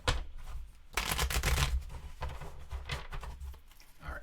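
A deck of playing cards is riffle shuffled near the microphone during a solo board game, giving a quick fluttering burst of flicking cards followed by softer tapping and squaring of the deck.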